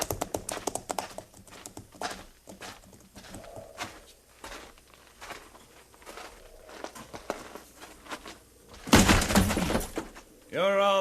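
Horses' hooves clip-clop in a Western radio drama set at Fort Laramie, a steady uneven patter of hoofbeats heard beneath voices, followed by a sudden loud crashing burst near the end.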